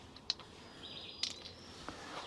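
Birds chirp among rocks outdoors, a few short, high chirps standing out faintly over a quiet background with a brief sustained whistle-like note in the middle.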